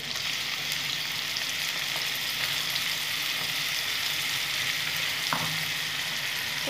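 A ground spice paste of coriander, ginger, garlic, whole onion, tomato and green, ripe and dried chillies fries in a pan for chicken kosa, giving a steady, close sizzle with no talk.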